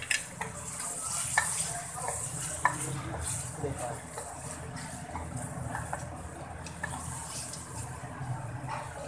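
Cream being stirred into gurda fry, kidney cooking in a pan, gives a soft continuous sizzle under intermittent spoon scrapes and light pan clinks, fairly quiet and close.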